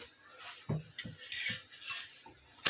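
Methi paratha being flipped and roasted with oil on a pan: soft spatula knocks and scrapes against the metal over a quiet, faint sizzle, close up with no voices.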